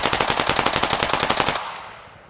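Rapid automatic gunfire in the military shooter Arma Reforger, a loud close burst of evenly spaced shots lasting over a second, then a fading echoing tail.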